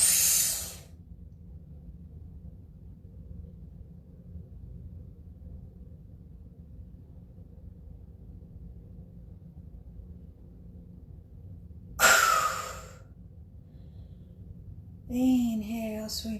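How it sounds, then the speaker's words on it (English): Deep breathing during a Kundalini yoga session: a loud, close breathy rush at the start, then a long quiet stretch, followed by another strong breath near the end, with a voice beginning just after it. "Deep inhale."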